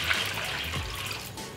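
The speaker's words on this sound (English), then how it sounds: "And then I will add the water." Water is poured into a cooking pot while a vegan dish with garlic and nutritional yeast is made, giving a brief close splashing trickle that fades after about a second.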